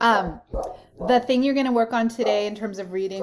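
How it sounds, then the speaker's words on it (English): Dogs barking in the background, a few sharp barks and yips mixed in with a person speaking steadily in the foreground. "Sorry about the dogs."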